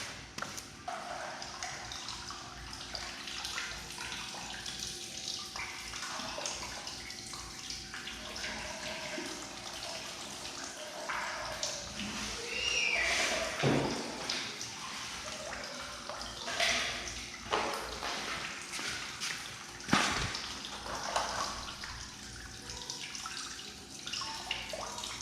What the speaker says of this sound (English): We can add some more distilled water in the tank until all the system is clean